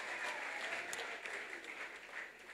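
Audience applause for the second-placed team at a school debate competition, a steady, dense clapping from a crowd that holds throughout, easing slightly toward the end.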